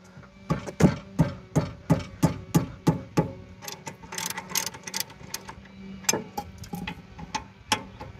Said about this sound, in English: Let me grab a wrench for that, and we'll get the caliper bracket out of the way.